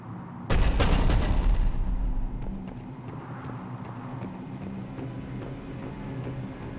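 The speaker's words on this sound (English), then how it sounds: "The cannon fire is clearing the way." In Mass Effect 3, a heavy booming cannon blast opens, followed by a sustained rumbling roar that slowly fades into a lower steady din of distant battle noise.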